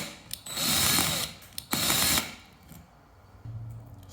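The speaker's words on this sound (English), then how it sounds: "now I'm just using the drill to mark the holes that I'll be drilling" A handheld power drill whirs in two short bursts while marking screw holes to mount a combined smoke and carbon monoxide detector, nearby and fairly quiet, followed by a faint low hum.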